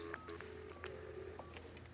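A quick series of telephone keypad tones, several distinct beeps in an uneven rhythm as a number is dialed, clear and close over a faint background.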